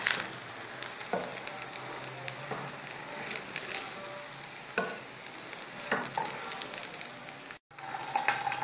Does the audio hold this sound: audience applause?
no